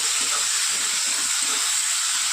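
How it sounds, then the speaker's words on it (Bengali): Chickpeas and potatoes fry in a pan, a steady, loud hiss of sizzling oil that carries on without a break. "নুন দিয়ে দিয়েছি এবার এটা খুব ভালো করে ভেজে নেব"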